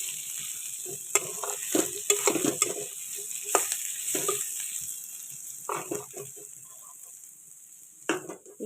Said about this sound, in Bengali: তো পেঁয়াজটা আমার একটু ভাজা হয়ে গেছে